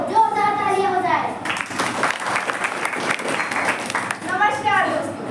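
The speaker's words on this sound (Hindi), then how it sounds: "जोरदार तालियां हो जाए।" Loud crowd applause at a taluka-level drama competition greets a performer called to the stage, a dense wash of clapping lasting a few seconds, with a voice speaking just before it and another beginning as it fades.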